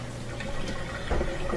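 A Miele washing machine drains fast after a blocked black tube was cleared, giving a continuous close gurgling rush of water with a brief louder surge near the end.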